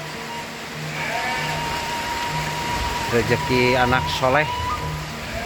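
Rain falls steadily on a livestock pen, a soft continuous patter beneath a person talking, while animals bleat in the background.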